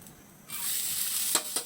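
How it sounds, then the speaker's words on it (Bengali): Washed black sesame seeds hit a hot pan and start frying, a faint crackling sizzle rising suddenly, with a couple of quick stirring scrapes. "কালো তিলটা আমি ধুয়ে পরিষ্কার করে ছেঁকে নিয়েছি এখন এটাকে প্রথমে আমি ভেজে নেবো"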